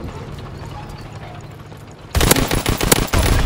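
Call of Duty: WWII battle sounds turn loud midway as rapid machine-gun and rifle fire erupts close by in dense, clattering bursts after a quieter stretch of distant ambience.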